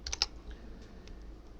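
A few quick, faint key clicks on a computer keyboard, a short shortcut combination pressed close by, then a quiet room with a couple of soft later taps.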